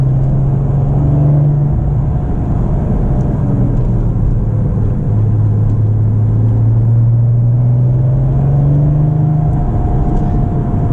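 A 2009 Porsche 997 Turbo Convertible engine drones steadily under full-throttle load, its low pitch rising and falling as it pulls hard, with a faint turbo whirring layered on top throughout.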